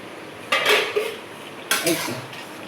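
Metal lid set onto a cooking pot while preparing a Bengali mola carplet fish shukto with bitter gourd: two distinct clanks about a second apart, close and fairly loud, with a faint rattle after each.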